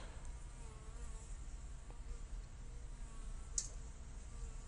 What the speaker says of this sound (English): Wow, this bee is super active.